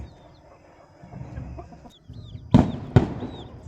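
A rooster of about 2.5 to 3 kg makes a few short clucks and squawks close by, with two sharp louder bursts near the end over quiet farmyard background.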